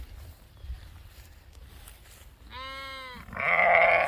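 A sheep bleats loudly nearby, then a second harsher, louder bleat follows right after, over faint background rustle.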